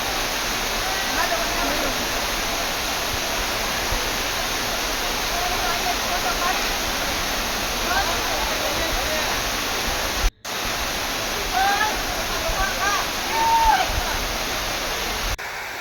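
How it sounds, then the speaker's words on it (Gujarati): Steady rushing water fills the whole clip, a continuous broadband wash like a hillside stream tumbling over rocks in rainy season at Patanvav, with a brief dropout partway and a few faint chirps. "વહેતા ઝરણાની મોજ. એકદમ નિર્મળ સ્વચ્છ પાણી."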